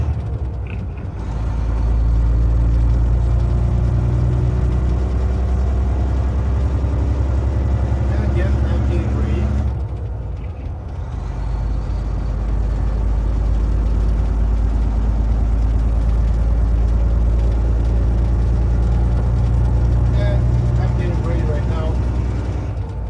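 A vehicle with a ten-speed gearbox drones loud and close under load, its engine note dropping away briefly midway through a gear change before building back up, with a voice talking over it.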